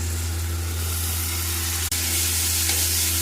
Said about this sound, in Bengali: পেঁয়াজ আর টমেটোটা নরম হয়ে গেছে, এবার এর মধ্যে আমি পোস্ত বাটাটা দিয়ে দেবো।